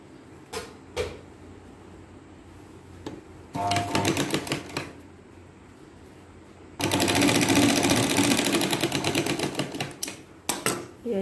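A sewing machine stitches the lining of a katori blouse in several bursts of rapid, even clatter. Short runs come first, then a longer run, with soft handling clicks in the pauses between them.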